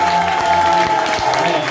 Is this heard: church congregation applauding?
yes